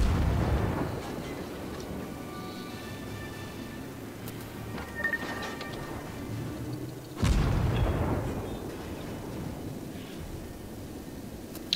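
Heavy naval guns boom from a warship in the World of Warships game, a dense rumbling barrage that swells into a louder, closer blast partway through and then rolls on.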